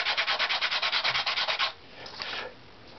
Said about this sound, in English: Because of this old bass bar glue, might have to use a little sandpaper here too.